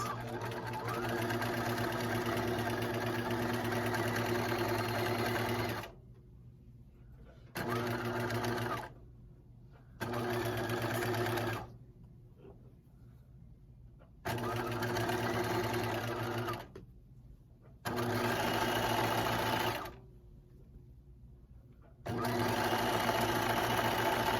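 A sewing machine stitches around the neck of a fleece pullover in several steady, loud mechanical bursts, each a few seconds long, separated by short quiet pauses with no talk.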